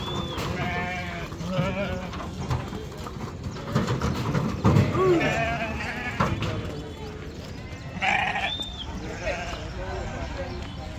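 Several sheep bleat repeatedly amid a busy crowd at a Saturday livestock market in Pebbair, with people talking loudly nearby and general outdoor commotion.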